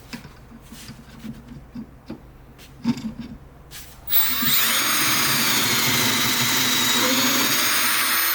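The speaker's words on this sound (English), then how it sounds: "my drill bit, I set a little depth stop so I don't drill too far." Power drill boring a hole through clamped workpiece with a depth-stopped bit: quiet handling and bumps at first, then a loud steady whine of the drill running continuously to the end.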